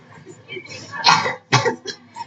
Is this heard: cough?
yes